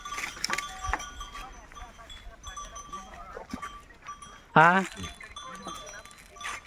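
A single loud goat bleat rings out nearby amid quieter rustling and faint clinks, with people talking in the background.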